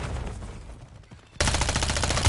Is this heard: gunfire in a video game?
yes